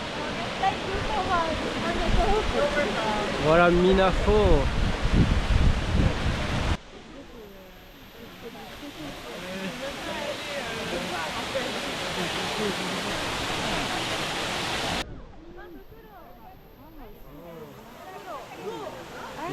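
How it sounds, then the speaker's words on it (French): Steady broadband rush of a waterfall in Osaka, loud and close, with people talking briefly over it; the roar drops and shifts as the position changes. "On arrive à la cascade."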